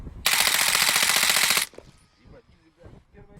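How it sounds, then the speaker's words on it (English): An AS VAL suppressed rifle fired in Insurgency Sandstorm, a short rapid burst of muffled, hissing shots lasting over a second, followed by quieter mechanical clicks and handling noises. "this is bar none the quietest gun out there"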